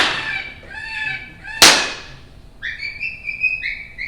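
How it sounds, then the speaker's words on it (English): An electronic predator caller plays loud, squealing prey distress calls, then a sharp, close gunshot cracks, after which the caller switches to high, wavering coyote-like howls; no talk. "So I've been playing a prey sound, and then I shoot, and it starts making a coyote sound."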